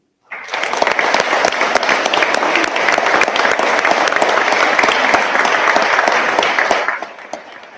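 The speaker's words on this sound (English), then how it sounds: "Please join me in a round of applause" Audience applause at an announcement for a new power plant in Hutchinson, a loud, steady wash of many hands clapping that holds for about six seconds and then stops abruptly.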